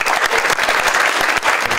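Audience applause at a college volleyball national tournament banquet, a dense steady burst of many hands clapping filling the room without pause.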